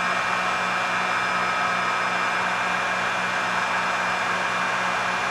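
A heat gun blows steadily while drying black paint on a Fire Tiger pattern, giving a continuous, even hiss with a faint motor hum underneath that holds unchanged throughout.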